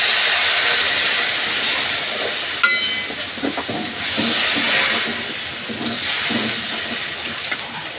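Water poured into hot spiced oil for an okra curry sets off a loud, steady sizzling hiss close by that swells and eases over several seconds, with no talking.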